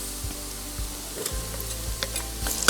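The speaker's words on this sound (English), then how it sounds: "So we're gonna add some minced garlic" Minced garlic sizzles in hot rendered bacon fat while being stirred, a steady close frying hiss broken by a few soft scrapes and knocks of the utensil against the pan, with no talking.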